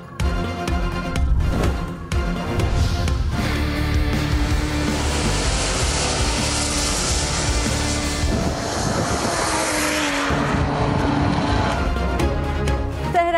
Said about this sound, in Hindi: चौलिस्तान में धूल उड़ाती गाड़ियों का शोर